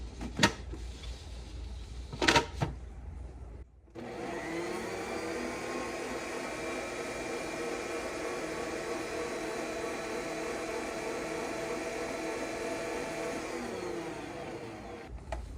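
A stand mixer whirring steadily as it mixes roll dough to a batter-like consistency, starting after a couple of lid clunks and running as a loud, even motorized drone to the end.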